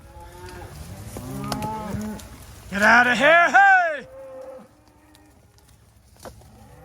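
Cattle moo loudly and repeatedly while being herded to pasture, a burst of several close bellowing calls mixed with a herder's shouts and talk, then quieter lowing afterward.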